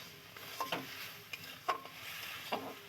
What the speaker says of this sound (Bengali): দেখো মশলাটাকে ভালো করে কষিয়ে নিচ্ছি